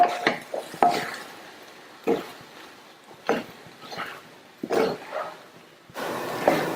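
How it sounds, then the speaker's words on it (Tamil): Rice being stirred into small greens (sirukeerai) in a pan on a stove with a spoon: a handful of separate scraping clinks against the metal pan, soft shuffling between them, close and moderately quiet. "சிம்லையே வச்சு நல்லா சாதம் சூடு ஏறுற வரையும் கிண்டி கொடுங்க"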